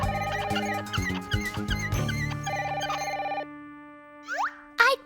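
Telephone ringing in a cartoon scene, a bright repeated electronic ring in several bursts over the first few seconds, then quieter cartoon boing and plop effects, no talk.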